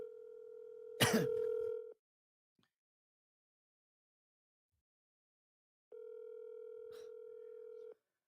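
Phone line during a cold call: a steady dial tone, a burst of keypad dialing, then a long ringback tone after several seconds of silence, with a faint cough.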